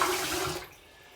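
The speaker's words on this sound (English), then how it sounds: "Gonna heat up my razor in some hot water" Hot running water pours from a tap over a razor being warmed before shaving, a loud, steady broadband rush that cuts off sharply partway through, leaving only quiet room tone.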